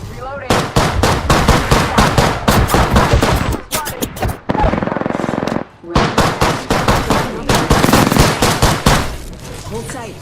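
Gunfire in Apex Legends: loud rapid bursts of automatic fire, close and nearly continuous, broken by a couple of short pauses, with a voice speaking over the shooting.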